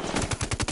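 Rapid automatic gunfire in a shooter video game, a fast burst of about eight close, loud evenly spaced shots with no voices.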